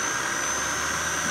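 A shunt motor armature spinning after a hand start gives off a steady, even whine with a high tonal hum over a constant drone. It is close and continuous, with no talk.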